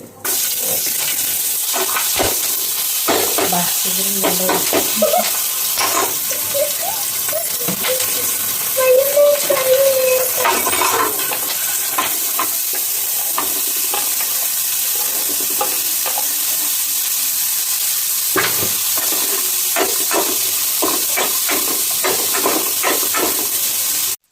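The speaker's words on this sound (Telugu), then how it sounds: "మనం ఆనియన్స్ కొద్దిగా బ్రౌన్ షేడ్ లైట్ బ్రౌన్ షేడ్లో వచ్చే వరకు ఉంచుకుందామండి" Onions and green chillies fry in a pan at home, with a continuous soft hiss and sizzle, scattered clinks and scraping stirs, and a brief bubbling burst midway.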